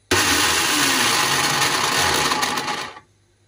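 Repaired blender motor running on test after the blade drive gear was fitted, a loud steady whirring drone starting suddenly and lasting about three seconds before cutting off, with no talking.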